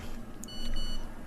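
A cellphone gives a short electronic notification beep, a bright tone with a couple of quick follow-up pips, heard over low background room noise.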